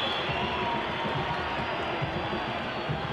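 A large Brazilian crowd roars steadily at a youth world championship football final, a continuous loud wash of massed voices with rhythmic chanting pulses and scattered clapping throughout.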